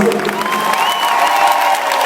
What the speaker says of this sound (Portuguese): Quem gostou, aplaude.